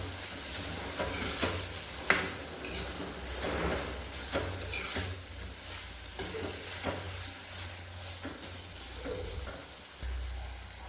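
Vegetables simmering with sambar masala in a pot for South Indian sambar, giving a steady soft sizzle and bubbling with occasional stirring clinks and scrapes, close by, with no talk.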